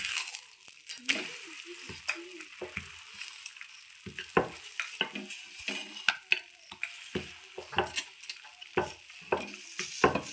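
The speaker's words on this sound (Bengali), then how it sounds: "এইভাবেই আমি এক এক করে সমস্ত পরোটাগুলো ভেজে নেব।" Paratha fries in a pan with a soft sizzle and scattered scraping, tapping stir sounds, fairly quiet and close, with no talk.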